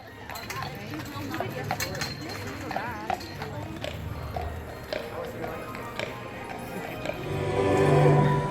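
A horse-drawn carriage's hooves clip-clop in a steady rhythmic trot with faint jingling through a Christmas town, while people talk nearby and the sound swells toward the end.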